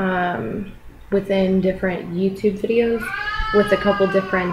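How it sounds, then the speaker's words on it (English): A house cat meows a few times, its cries blending with continuous close talking by a woman indoors. "sorry, that's the cat"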